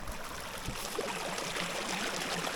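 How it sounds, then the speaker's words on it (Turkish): Gentle, steady flowing water of a small forest stream fed by melting snow, soft and continuous, with a couple of faint knocks early on. "Derede akıyor gördüğünüz gibi."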